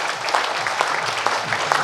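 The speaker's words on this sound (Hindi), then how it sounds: "तो एक बार जबरदस्त ताली अपने लिए बजाएंगे।" A gathered audience at a program claps together in a steady, moderately loud burst of applause, with a few sharper claps standing out.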